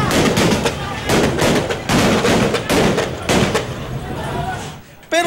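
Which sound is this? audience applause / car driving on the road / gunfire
gunfire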